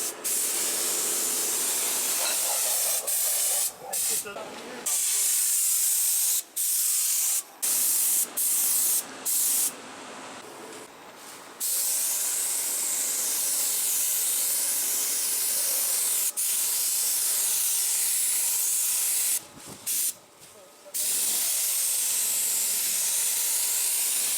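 Spray gun painting a car outdoors: long, loud hissing bursts of spray, cut by brief pauses and then resuming, close to the listener.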